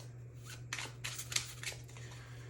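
A deck of Fae-themed playing cards is shuffled by hand in a few quick papery riffles and flicks, close and fairly quiet over a steady low hum, with no talking.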